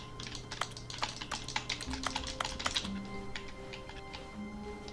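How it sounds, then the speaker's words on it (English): Computer keyboard typing in The Stanley Parable: rapid, uneven clusters of sharp key clicks, close and clear over a quiet office hum with soft music tones. "I'm just gonna be here typing like."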